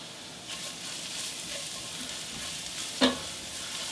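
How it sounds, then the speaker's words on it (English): Garlic sizzles gently in a frying pan, a soft, steady hiss of bubbling oil punctuated by one sharp utensil clink near the end. "You can see the garlic starting to bubble a little bit on its edges"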